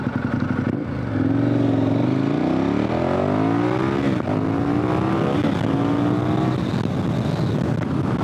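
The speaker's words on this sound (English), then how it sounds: "now we're back to the highway, kicking it up to highway speeds" A dual sport adventure motorcycle on Heidenau K60 Scout tires accelerates back up to highway speed, its engine note rising steadily through the gears, loud and continuous with wind roar and no talk.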